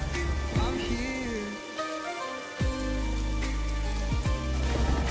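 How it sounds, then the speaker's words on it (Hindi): Steady cartoon-storm rain hisses throughout as a continuous wash, with a few low thuds and swooping tones breaking in under it and no voices. "तभी अचानक से जोर का तूफान आया और बारिश शुरू हो गई"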